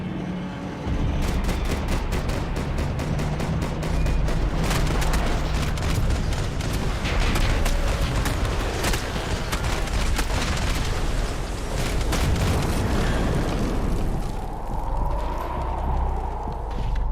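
Continuous gunfire and combat noise in the video game Max Payne 3, dense and loud throughout, with repeated sharp shot bursts and low rumbling impacts.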